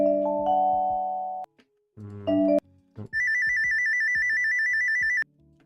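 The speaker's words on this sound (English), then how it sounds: "It's a ringtone at least." Phone ringtones from video game sound assets: a short sustained electronic chime, a brief buzzy burst, then a bright, rapidly trilling electronic ring that holds for about two seconds before cutting off, loud and clean with no voices.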